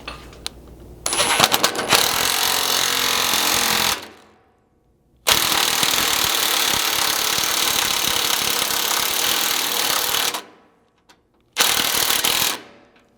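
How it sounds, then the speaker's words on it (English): A power tool with a 3/4 socket drives self-tapping 1/2-inch bolts into a Lexus LX 570 frame for slider installation, loud continuous buzzing runs broken by short pauses, close up. "using a 3/4 socket, you can install these self-tapping 1/2-inch bolts"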